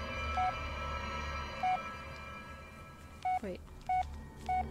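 Touch-tone dialing beeps on a phone in the Blair Witch horror game: a few short, evenly pitched tones spaced apart over a low ambient drone, with a brief spoken word near the start.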